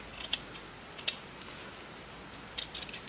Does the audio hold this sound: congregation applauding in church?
no